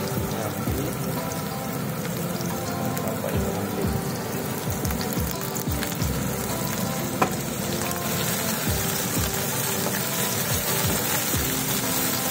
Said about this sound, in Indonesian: Kailan goreng ikan masin.